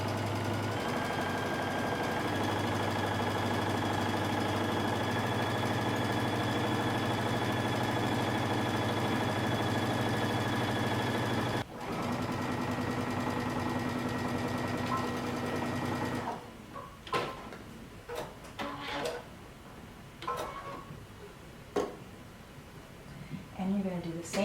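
A sewing machine stitches a coat seam with a loud, steady whirring hum for about sixteen seconds, briefly pausing once, then stops as a person begins talking over quieter handling noises.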